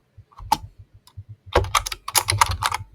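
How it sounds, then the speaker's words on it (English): Keys clatter on a computer keyboard, a few isolated taps followed by a quick burst of rapid, uneven typing, close and clear with no talking. "let me type in something"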